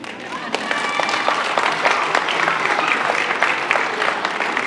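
Applause from a school audience at an elementary school renaming ceremony, honoring a family: dense, sustained clapping from many hands throughout, lively and fairly close, with some crowd murmur mixed in.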